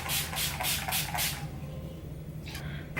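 A makeup setting spray bottle mists in about five quick hissing pumps, then after a short pause, one more spray follows.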